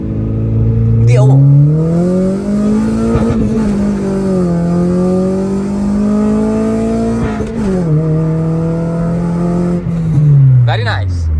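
A Honda Civic FD2 Type R, a car being rebuilt from stock, accelerates hard with a rising, sustained engine note that climbs through gear changes, loud and close, while people talk over it.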